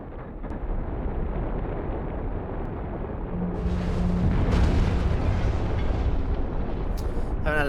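A loud, sustained explosion rumbles from the Blood Omen 2 PS2 video game amid steady combat noise, swelling midway into a heavier boom with a brief higher burst near the end.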